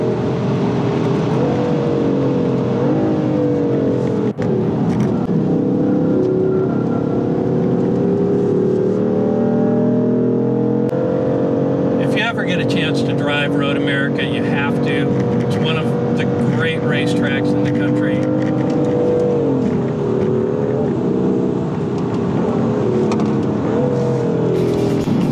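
A BMW M4 engine drones and rises in pitch as the car accelerates on the road, running continuously under someone talking throughout, with a rougher, buzzy stretch partway through.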